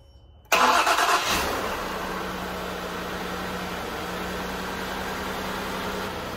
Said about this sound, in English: So now it's time to fire it up, warm it up, and check for leaks.